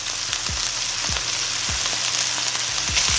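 Steady, loud sizzling of meat frying in a pan, a constant crackling hiss with a few low thumps and pops scattered through it.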